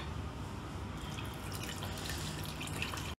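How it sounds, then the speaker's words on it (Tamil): Tamarind water pours steadily into a pot for about three seconds, a continuous splashing trickle with no voices. "இப்போ நான் அதை ஊற்ற போகிறேன்"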